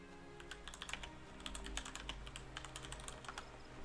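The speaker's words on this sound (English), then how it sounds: "I was just typing something on the other screen." Rapid, faint clicking of keys on a computer keyboard during a game session, steady typing with no talk.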